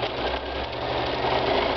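A sewing machine fitted with a walking foot stitches a spiral through layered quilt fabric on a pillow, giving a steady, continuous motor hum with a low mechanical drone, close and alone for under two seconds.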